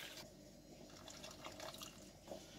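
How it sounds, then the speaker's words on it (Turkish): Warm water poured into pizza dough mixture in a home kitchen, a faint, soft, continuous trickling splash of liquid that lasts a few seconds. "2 su bardağı da ılık su koyuyorum."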